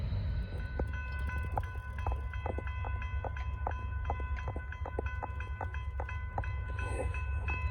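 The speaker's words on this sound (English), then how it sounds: "see if I can get one more train coming south" Norfolk Southern freight train passing, a loud steady rumble with regular clanking of wheels over rail joints as the cars roll by close at hand.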